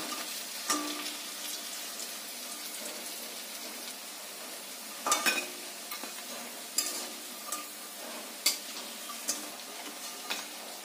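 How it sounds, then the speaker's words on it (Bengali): Potato pakoras frying in oil in a pan (kadai) give a steady, soft sizzle at close range. Sharp clicks and scrapes of the utensil against the pan break in every second or two. "সবগুলো আলুগুলোকে আমি ভেজে নেব"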